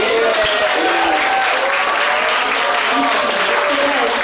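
Audience applauding at a Lindy Hop dance competition awards ceremony, dense continuous clapping with faint voices and whoops mixed in.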